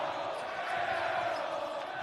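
Basketball crowd in a gym, a school game between Bob Jones Bruins and Pensacola Christian Eagles, jeers after an airball with a sustained, dense roar of voices for the whole short moment.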